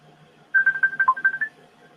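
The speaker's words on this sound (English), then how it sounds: "a phone call coming in" A phone sounds an incoming-call tone, a rapid series of about eight short electronic beeps lasting around a second, fairly close and clear over a quiet background.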